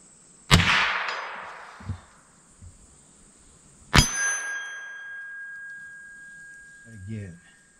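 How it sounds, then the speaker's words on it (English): Two sharp rifle shots from a 1942 US Springfield M2 each ring a steel gong, leaving a bright metallic ring that fades over a few seconds. Smaller knocks follow the first shot, and brief talk comes near the end. "see if we can hit the slightly larger gong to the right of that smaller one we hit"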